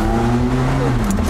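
A Ferrari sports car driving through Los Angeles, its engine droning loudly from inside the cabin with steady harmonic tones that shift slightly in pitch as it pulls.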